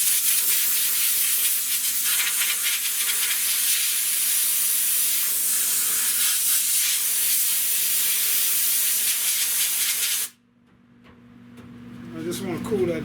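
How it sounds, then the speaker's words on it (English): A compressed air nozzle blasts a steady, loud hiss onto metal panel work on a 1970 Buick Wildcat body for about ten seconds, then cuts off abruptly, leaving a quieter background that slowly builds again. "I have to go get the air nozzle."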